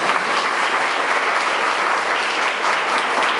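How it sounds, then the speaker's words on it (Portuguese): Dense, steady applause from an audience at a school inauguration ceremony in Caxias, Maranhão, filling the whole stretch at a loud, even level. "Então eu peço uma salva de palmas para o Sargento Moisés."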